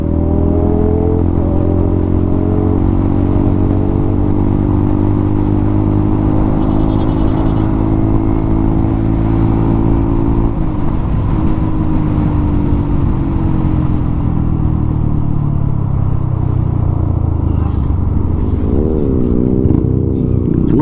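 Loud, steady engine roar with rising and falling revs, like motorcycles accelerating close by, continuous throughout with no talking.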